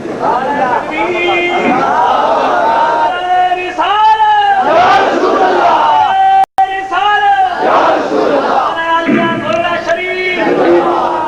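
A crowd at a religious gathering chants slogans in loud, rhythmic voiced bursts, many voices rising together over a background of murmur, with one sharp break partway through.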